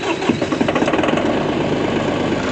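A tractor engine runs loud and close, with a steady, dense mechanical rumble and a slight rhythmic knock throughout.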